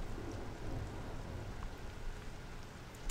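Steady rain pours throughout a thunderstorm in the stealth video game Thief, a dense wash of rainfall with faint low rumbles underneath and no voices.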